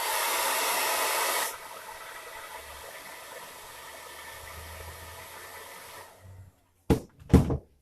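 A hair dryer blows hard on a large piece of chalk transfer paste, loud and steady for about a second and a half, then continuing as a quieter steady whir before cutting off, followed by a couple of brief bumps.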